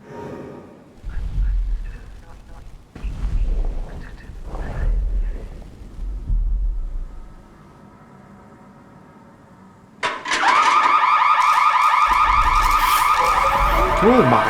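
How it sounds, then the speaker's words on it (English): A proximity warning alarm in the horror video game Saturnalia, a loud, continuous piercing electronic tone that starts abruptly after several seconds of low rumbling footsteps and thuds, with voices heard earlier. "the first sign that the monster is getting closer to you is the proximity warning that sounds"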